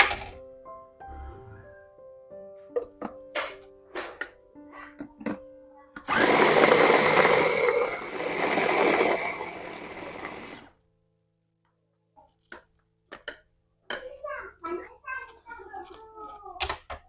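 An electric blender grinds ingredients with a little added water, a loud steady whirring roar lasting about four seconds, set between scattered kitchen clatter and knocks.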